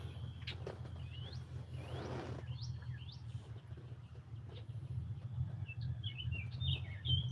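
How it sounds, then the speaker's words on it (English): Small birds chirping in a garden beside a porch, brief faint tweets and short calls scattered over a steady low hum, fairly distant, with no talk. "Listening to the birds."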